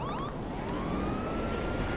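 A police siren wails in the video game GTA 5 Online, its rising and falling tone sweeping over a dense, rumbling backdrop of engine and game noise for a couple of seconds.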